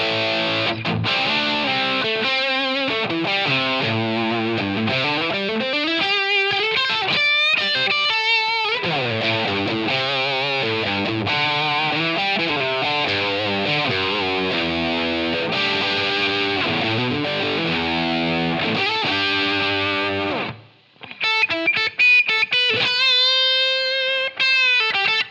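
Electric guitar through a pedal switched fully to its Placator setting, heard as a loud, driven tone with chords and lead phrases, a brief pause near the end, then more playing, with no talking.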